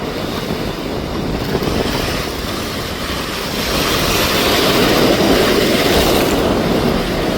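Heavy sea waves surging and breaking close to a deep-sea fishing boat off Jaffna after a storm, a loud continuous roar of rushing water and wind that swells slightly louder halfway through, with no voices.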